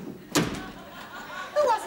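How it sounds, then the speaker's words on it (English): A front door in a sitcom home thuds shut once with a sharp knock-like impact near the start, followed by a murmuring voice. "It was the front door."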